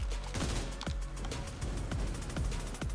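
Gunshots in The Division 2 thud in a steady series of about eight sharp, punchy reports roughly every half second, fairly close and loud against a constant rumbling background.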